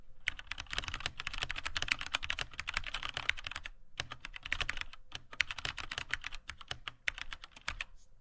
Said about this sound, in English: the sound you're hearing is actually the key cap colliding with the base of the keyboard